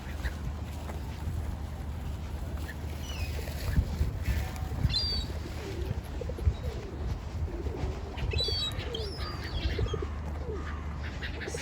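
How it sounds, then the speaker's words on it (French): Pigeons being fed by a woman in Glasgow coo and shuffle close by outdoors, with chirps and soft wing flutters over a steady low street rumble. "il y a une dame qui nourrit des pigeons"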